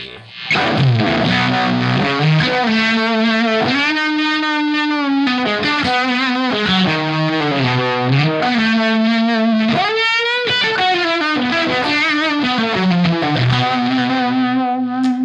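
An electric guitar plays through a fuzz pedal with thick, buzzing distortion, sustained chords and sliding notes ringing loud and saturated for the whole stretch.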